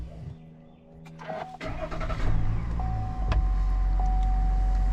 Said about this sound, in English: What I'm going to do is just start the truck up.